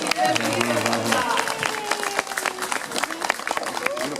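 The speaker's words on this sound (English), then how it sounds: "let's give Rio a round of applause for opening up the show" Audience applause at a zoo birds of prey show rises as a steady crowd clatter under a speaking voice, with a few scattered louder claps standing out.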